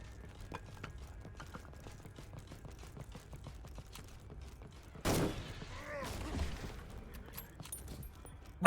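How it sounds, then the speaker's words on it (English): A mortar fires in the video game Conscript: quiet mechanical clicks of handling lead into a sudden loud boom, followed by a rumbling, whistling tail. A final sharp burst cuts in at the very end; no one speaks. "That was a perfect mortar shot"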